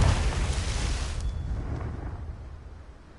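A single Confringo blasting spell explosion in Hogwarts Legacy, a loud booming burst at the start that rumbles and slowly fades over a few seconds.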